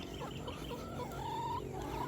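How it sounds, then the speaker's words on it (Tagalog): Chickens cluck and chatter on a farm, several birds close by, with short overlapping calls over a steady low background hum. "Ito yung mga manok natin."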